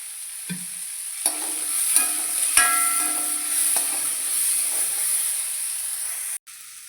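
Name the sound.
small onions sautéing in a pan with salt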